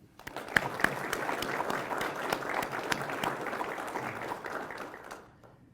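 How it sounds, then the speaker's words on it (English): A round of applause at a law enforcement academy graduation, many hands clapping in a fairly distant hall, rising quickly, holding steady, then fading out. "please give them a round of applause for their hard work as well"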